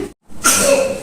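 A single sharp sneeze bursts out after a brief silence, close and loud, with a breathy inhale tail, in a hospital room.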